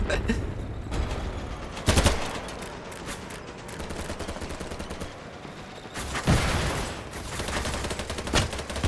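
Bursts of automatic gunfire and scattered single shots from the shooter game BattleBit Remastered, fairly close and loud in clusters, with quieter stretches between volleys and occasional voices underneath.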